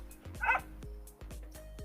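A Minecraft dog gives short yipping barks in a quick burst near the middle, set against a low steady game-music drone with a few soft plucked notes.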